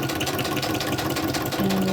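A sewing machine stitches through paper folios for a junk journal, giving a steady, continuous mechanical whir that carries at an even level for the whole stretch.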